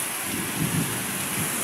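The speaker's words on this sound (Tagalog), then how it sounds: "Sobrang kasi lakas ng ulan" Heavy rain pours down in a steady, dense hiss with a low rumble underneath, continuous and close.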